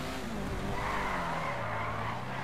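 Tires skid and screech from a car in Grand Theft Auto V, a steady continuous squeal over a droning engine that holds at an even, fairly loud level throughout without any voices.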